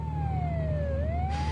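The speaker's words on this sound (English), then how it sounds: "that's the 4th ambulance in the last half hour." Ambulance siren in a 1980s horror radio drama, a steady wailing tone that dips and then rises again like a vehicle passing, over a low constant hum, with no voices.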